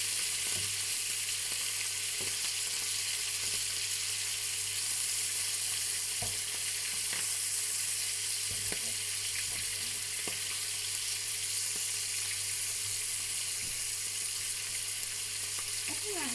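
Steak pieces fry in a large pan with a loud, continuous sizzle and crackle that holds steady throughout. Occasional faint clicks and pops sound over the hiss, and no one speaks.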